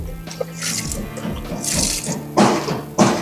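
Water splashes and pours onto soil in grow bags freshly planted with brinjal and chilli seedlings, a steady running gush with two louder surges near the end, close and fairly loud.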